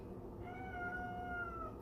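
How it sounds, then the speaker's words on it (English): A house cat lets out a single drawn-out meow, clear and fairly close, over a quiet room background with no talking. "the cat just likes to meow"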